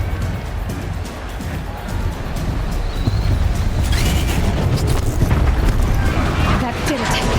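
Stone pillar crashing down in Horizon Zero Dawn: heavy rumbling booms and crumbling debris roll on loud and continuous for several seconds under a low game ambience.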